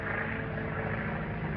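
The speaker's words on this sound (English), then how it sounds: "It's a government plane." A government airplane flies in, its steady propeller-engine drone loud and continuous throughout, with no voices over it.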